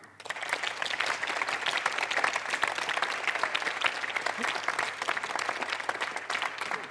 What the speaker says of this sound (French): on peut également les applaudir